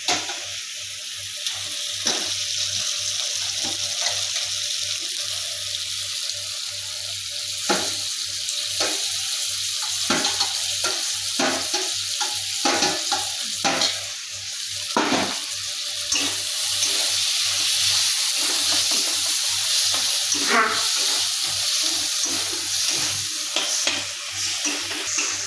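Goat brain goes into oil-glossed fried spice paste in a Bengali home kitchen, with a sustained sizzle and repeated scraping and stirring clicks throughout.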